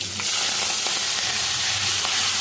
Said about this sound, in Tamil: இப்போ நம்ம எடுத்து வச்சுருக்க வெங்காயம், தக்காளி, பூண்டு, பச்சை மிளகாய், கருவேப்பிலை எல்லாம் போட்டுருவோம்